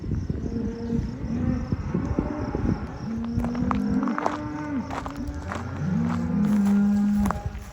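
Cattle low repeatedly at moderate distance at the Brush Creek Trailhead on South Dakota's Centennial Trail, a few drawn-out moos spaced apart, with hooves shuffling and thudding on the ground nearby.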